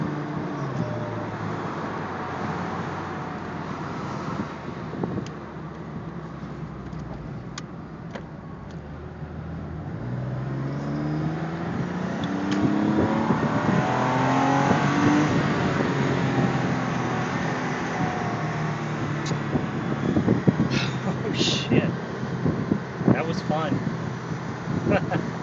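Car cruising at highway speed, a steady broadband road and engine rumble that swells as it speeds up midway and holds there for the rest of the drive, with occasional brief knocks and rattles on top.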